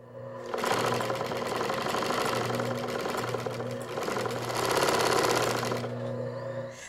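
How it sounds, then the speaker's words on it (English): A sewing machine runs in a steady, rapid mechanical rattle for several seconds, stitching two fabric teddy bear body pieces together, close and alone with a brief pause partway. "Make sure when you sew the two pieces together, you leave an opening for the back and the neck."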